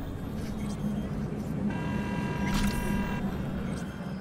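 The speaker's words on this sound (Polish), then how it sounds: "Co trąbisz, Pało?" A car horn sounds in Cyberpunk 2077, one sustained blare lasting about a second and a half in the middle of a busy city soundscape, with a brief burst of other noise during it.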